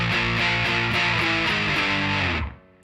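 Distorted electric guitar power chords strummed in the riff of a song, a loud sustained chord sequence that steps through several changes before cutting off abruptly.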